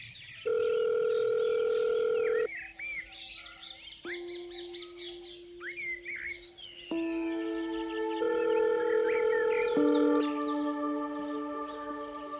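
Ringback tone of an unanswered phone call, steady electronic tones that repeat and shift pitch, moderately loud, with faint chirping in the background and no talk.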